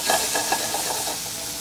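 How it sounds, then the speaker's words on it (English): Garlic and Brussels sprouts sizzling in a pan with some stirring, a steady hiss with soft scraping strokes, close and continuous. "Hear a little bit of that sizzle, that's what you wanna hear."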